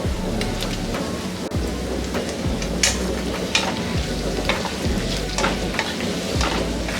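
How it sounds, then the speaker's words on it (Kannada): Garlic and tomatoes frying in oil for okra chutney, a steady crackling sizzle with rhythmic low scraping strokes of a spatula against the pan, close and continuous, without speech. "ಫುಲ್ ಸಾಫ್ಟ್ ಆಗೋ ತನಕ ಇದನ್ನು ಎಣ್ಣೆಲೇ ಫ್ರೈ ಮಾಡ್ಕೊಳ್ಬೇಕು."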